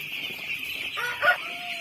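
Hens cluck on a poultry farm over a constant background hum, with a short squawk of chicken calls rising briefly near the end.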